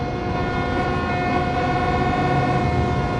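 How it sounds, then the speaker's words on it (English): A steady, sustained train horn blows throughout, with a low rumbling bed underneath and no voices, from the Train Sim World 3 game on Cajon Pass. "It sounded like that train there was whistling at me."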